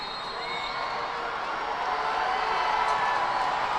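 A football crowd at a high school section title game cheers in a loud, sustained roar that builds steadily across the clip, broad and continuous with no single voice standing out.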